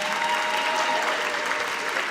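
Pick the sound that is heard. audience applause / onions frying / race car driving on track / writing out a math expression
audience applause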